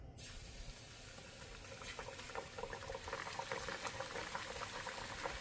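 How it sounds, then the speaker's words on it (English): A steady, dense sizzle and crackle of chicken frying in preheated oil in a pan, close and continuous, building slightly as it goes. "Okay, let's start frying the chicken."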